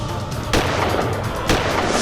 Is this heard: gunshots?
yes